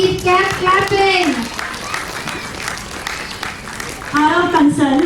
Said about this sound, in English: Parents, please keep clapping.